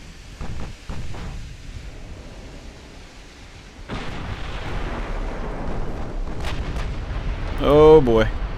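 Two 17-inch naval shells fired in a dreadnought-era battleship game, heavy booming reports that roll into long low rumbling, followed by a voice talking over the din.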